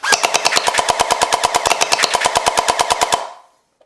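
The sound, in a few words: gel blaster shots being fired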